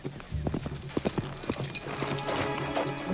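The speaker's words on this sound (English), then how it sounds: "Horse." Horse hooves clip-clop in an uneven, fairly close rhythm over background noise, with no talk.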